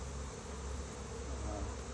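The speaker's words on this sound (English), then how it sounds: "I'm going to shake these bees off." Honeybees hum in a steady, close buzz as they are shaken off hive frames, filling the whole moment without a break.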